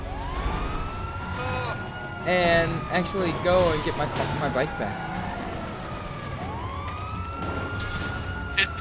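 Police car siren in GTA V wailing in long rising and falling sweeps, with several overlapping sirens during a freemode chase, heard under a voice as he speaks.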